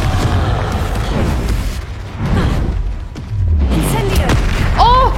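A Confringo fire-spell explosion in a video game sounds as a heavy, booming blast that swells amid ongoing game noise and effects, loud and close, followed by a rising magical whoosh.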